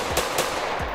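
Gunfire in the Roblox game Pacifico 2, three quick sharp shots about a fifth of a second apart, loud and close with no talking.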